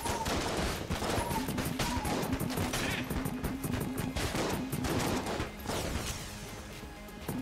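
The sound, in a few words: gunfire in video game Enter the Gungeon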